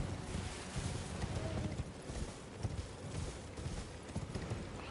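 Horse hooves galloping in Elden Ring, a continuous rapid clip-clop blended with rushing wind noise at steady moderate loudness, no talking.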